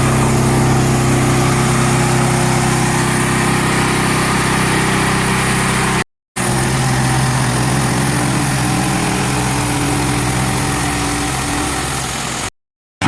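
Hud-son Patriot sawmill cutting a log, a steady loud engine drone with a constant hum running throughout, broken by two short gaps of silence.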